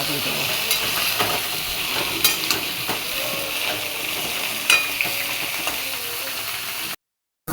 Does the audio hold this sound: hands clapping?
no